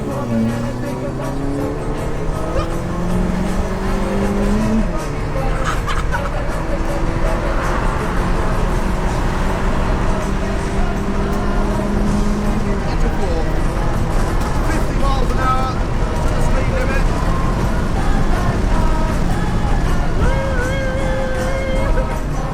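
Honda Civic EG engines strain through a drag race, a loud continuous engine roar with rising and shifting tones, mixed with wind buffeting and road noise and overlaid by talk throughout.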